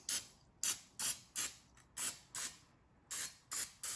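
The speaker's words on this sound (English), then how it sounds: "I have this little like mini muffin tin, and I'm just gonna spray it." Nine short hissing bursts of cooking spray onto a mini muffin tin, each a quick sharp spritz with brief pauses between, fairly close and moderately loud, with no talking.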